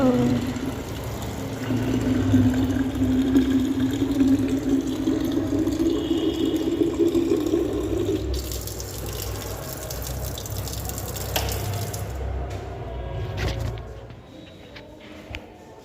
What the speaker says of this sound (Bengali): এবার পড়বে জল, এই দেখেছো?